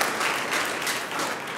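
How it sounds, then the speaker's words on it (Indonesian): A congregation claps together during an Indonesian church sermon, a dense, steady wash of applause filling the room for a brief moment with no talking. "Berikan tepuk tangan buat Tuhan Yesus"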